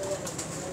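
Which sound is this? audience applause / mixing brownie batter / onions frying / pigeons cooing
pigeons cooing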